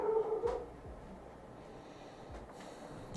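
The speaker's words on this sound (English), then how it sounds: "I love hearing Gracie bark at nothing." A dog barks and snorts in the background, with a couple of brief, muffled yips and huffs at moderate distance, fairly faint under steady room noise.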